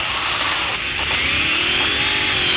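A car engine in a video game roars steadily and loudly the whole time, a dense, rising drone with no talking over it.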